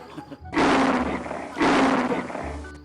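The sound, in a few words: tiger roaring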